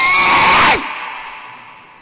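A voice imitates the angel Gabriel screaming, letting out one loud, sustained shriek of under a second that cuts off abruptly and leaves a fading reverberant tail in a hall.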